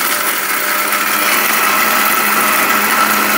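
A Veronica 1400 W, 18000 RPM blender runs at full speed with a loud, steady high-pitched whine and whirr, close and continuous without voices.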